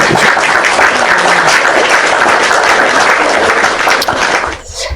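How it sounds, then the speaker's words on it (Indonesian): Loud, sustained clapping from an audience, steady throughout before dropping off abruptly near the end. "Tepuk tangan."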